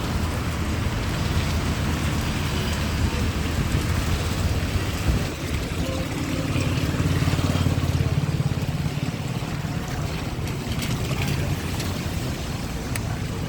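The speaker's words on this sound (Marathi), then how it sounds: "कंटिन्यू असा पाऊस चालू आहे." Continuous rain pours down during a walk on a road with passing traffic: dense, steady hiss close around, with low engine rumble from vehicles going by underneath and no talking.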